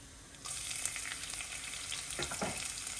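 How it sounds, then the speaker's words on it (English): Steady sizzling of a teaspoon of cumin seeds frying in hot oil, starting abruptly and continuing as a dense crackle with a few louder pops near the end. "Once nice and hot, I'm going to add a teaspoon of cumin seeds. Let them kind of sizzle up."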